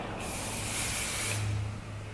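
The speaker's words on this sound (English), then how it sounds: "Anything that's a hairspray that's flexible or buildable is what you'll want to use, because we'll be spraying it now" A single close, loud hiss of Evo Miss Malleable flexible hairspray being sprayed onto hair lasts about a second and stops cleanly, with no talking.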